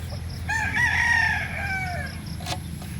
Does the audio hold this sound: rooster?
yes